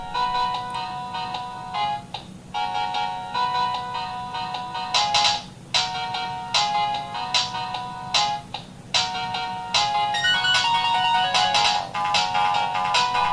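Polyphonic ringtone rendition of Turrican 2 video game music, a bright, loud, bouncy synth melody with repeated staccato phrases and steady rhythm, playing alone without speech.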